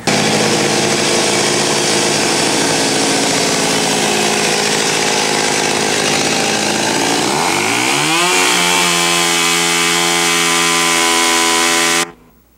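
A chainsaw runs loud and steady in an artist's studio while carving artwork, its pitch rising and shifting as the engine revs near the end before it cuts off abruptly.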